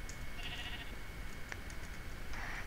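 Minecraft sheep bleat in a multiplayer minigame, short faint bleats heard over steady background noise.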